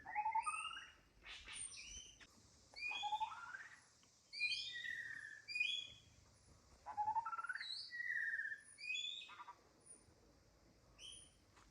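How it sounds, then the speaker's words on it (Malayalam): Several birds sing and call in a forest at Ranipuram hill station, Kasaragod, Kerala, in bursts of bright, warbling whistles and chirps, fairly close, against a quiet natural background with no talking. "എന്തെല്ലാം കിളികളെ സൗണ്ടാണ്"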